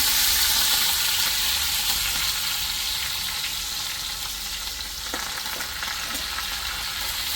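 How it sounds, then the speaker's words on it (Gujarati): Sesame seeds, mustard seeds, curry leaves and green chillies crackle in hot oil, a loud, dense sizzle that fades slightly over time, with one or two faint clicks and no speech. "તલ નાખશો એટલે ફટાફટ ઉડવાનું સ્ટાર્ટ થઈ જશે"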